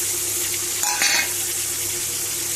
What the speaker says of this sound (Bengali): এবার এর মধ্যে একেবারে টমেটোগুলো দিয়ে দেবো।